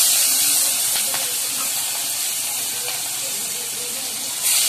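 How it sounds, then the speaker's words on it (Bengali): Chopped onions hit a hot pan for a bhetki fish head curry and give off a continuous hissing sizzle, close and even, with a few faint clatters. "সেই পেঁয়াজগুলো ভালো করে আমি ভেজে নেবো আগে।"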